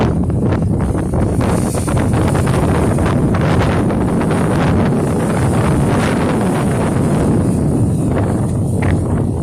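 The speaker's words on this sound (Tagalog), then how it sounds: "Mahangin dito" Strong wind buffets the microphone in a constant roaring rush, with the low wash of rough sea and surf underneath on the coast of Catanduanes, Philippines; no voices.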